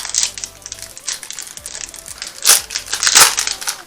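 Pokémon Évolution Céleste booster pack wrappers being handled and torn open, crisp foil crinkling throughout with two louder bursts of tearing near the end, close and alone.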